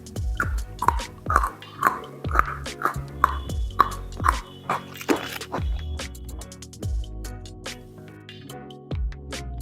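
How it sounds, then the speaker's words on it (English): Matcha-flavoured Pocky biscuit sticks are bitten and chewed close up. A run of crisp, evenly spaced crunches gives way to softer, wetter chewing, with no voices. "So now let's try some matcha pocky sticks."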